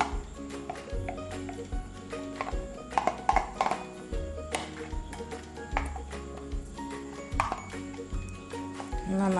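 White ganache is stirred into a toffee cake mixture in a bowl, with a spoon knocking and clinking against the bowl in irregular light taps over soft scraping.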